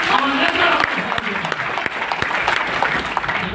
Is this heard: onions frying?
no